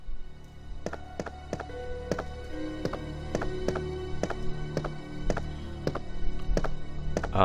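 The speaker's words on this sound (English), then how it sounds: "I like the sound of her boots on the ground on that floor there." Boots with rubbery soles step across a floor in the 1998 Resident Evil 2 video game, a steady, evenly spaced series of crisp taps and thunks over a low ambient drone.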